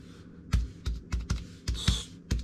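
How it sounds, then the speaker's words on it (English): Typing on a computer keyboard, a run of distinct, close keystrokes in an uneven rhythm, each a crisp click with no talking. "okay, let's type in"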